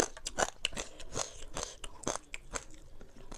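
Crispy fried pork ear bitten and chewed close up, a quick series of sharp crunches and crackles in irregular rhythm, fairly quiet with no talking.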